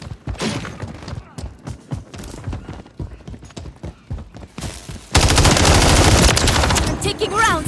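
Gunfire in Modern Warfare 3: scattered, clipped shots and footstep-like thuds give way abruptly to a loud, sustained burst of rapid automatic fire that continues to the end.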